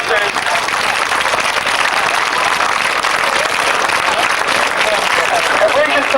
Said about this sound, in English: a final cheer for the guys who did them